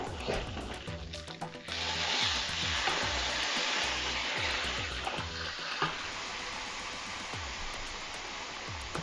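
Beef stew with melting onion is stirred in a cooking pot, a soft continuous sizzle and bubbling hiss broken by irregular scraping and clinking of the utensil.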